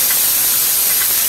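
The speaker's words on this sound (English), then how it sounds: "We're gonna add the jalapeno pepper first." Jalapeno pepper hits hot olive oil in a pan over medium heat, giving a brief burst of bright, loud hissing sizzle.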